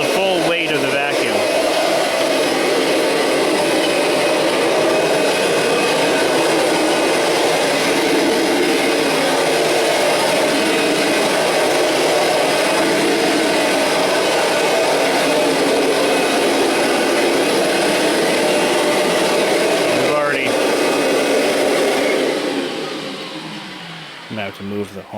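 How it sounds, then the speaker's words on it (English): Kirby Generation 5 upright vacuum cleaner running on a bare floor with its drive turned off, a loud steady motor whine holding for over twenty seconds before dropping away at the end, with a voice talking over it at times. "Now you can feel the full weight of the vacuum."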